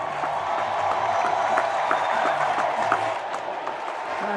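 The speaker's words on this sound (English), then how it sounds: "They're chanting, "Thank you, Joe. Thank you, Joe."" A crowd at a Joe Biden event cheers and chants in a steady, rhythmic pattern, loud and continuous, with applause mixed through the roar.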